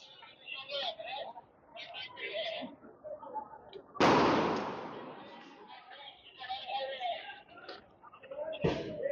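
One sharp, loud blast from gunfire or a sound grenade during street unrest cuts through the scene and rings out briefly, with someone talking over it before and after.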